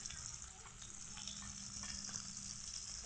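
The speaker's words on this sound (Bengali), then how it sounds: "পেঁয়াজটা লাল লাল করে ভেজে নেব।" Onions frying in oil for a rohu fish curry, a soft continuous sizzle with faint crackles, low and steady without talk.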